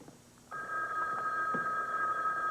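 A telephone rings in a room, a steady two-tone electronic trill starting abruptly and continuing unbroken, with faint low room noise and small thumps beneath it.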